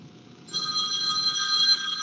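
A telephone rings during a board of directors meeting, its steady electronic tone starting after a short quiet lead-in and holding loud and continuous to the end, with low room murmur beneath.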